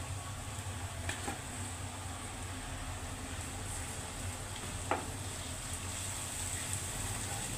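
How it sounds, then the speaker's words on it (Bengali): Ginger and garlic paste with spices frying in a pan, a low steady sizzle with faint stirring, fairly quiet and continuous, a couple of small clicks. "মশলাগুলোকে সুন্দর মতো করে কষিয়ে নিতে হবে।"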